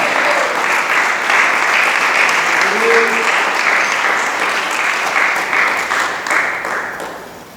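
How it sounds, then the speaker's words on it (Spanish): A church congregation claps in sustained, dense applause during a sermon, loud and steady for several seconds before tapering off, with a faint voice briefly rising above it. "Dele palmas a Dios del cielo."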